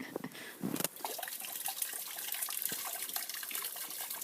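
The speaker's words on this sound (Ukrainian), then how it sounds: "Краніка ще нема, то вода тече постійно." Water runs steadily from an open pipe with no tap fitted, a constant rushing stream at a country house that goes on alone after a brief clatter at the start.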